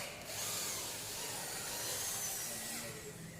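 A power screwdriver whirs steadily for a few seconds while driving screws into a PVC cupboard frame, a continuous close whine with no pauses.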